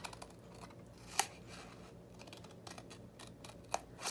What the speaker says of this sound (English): So cut that just to that score line there, and also kind of cut that one at an angle.